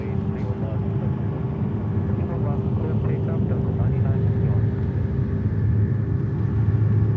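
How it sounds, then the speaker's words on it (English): An Airbus A330-300 arrives from Amsterdam at New York JFK, its engine roar a steady, broad rumble held throughout at moderate distance, with voices talking faintly over it. "330-300 from Amsterdam coming in"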